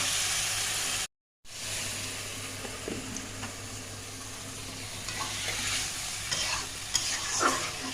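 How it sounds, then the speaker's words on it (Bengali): Boiled potatoes frying in oil with spices for niramish ghugni, a steady sizzle with scraping stirs building toward the end, broken by a brief silent gap near the start. "আলুটা আমি এবার দিয়ে দেবো। তেল ছেড়ে এসছে, ভালো করে মশলার সাথে মিশিয়ে নেব"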